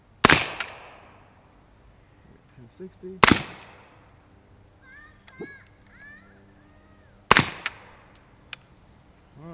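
Three sharp, loud gunshots from a CZ Scorpion firing MagTech 147 grain hollow point rounds, spaced a few seconds apart, each cracking hard and decaying quickly, with a few quiet words spoken between the shots.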